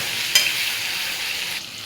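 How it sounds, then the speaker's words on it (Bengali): Potato and tomato stir-fried with spices, including cumin and coriander powder and chopped green chilli, in a hot pan, giving a steady bright sizzle with a sharp scrape near the start, close and alone. "ভালো করে মশলার সঙ্গে আলু টমেটো কষিয়ে নেব।"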